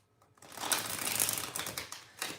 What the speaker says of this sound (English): we're going to shuffle the cards real well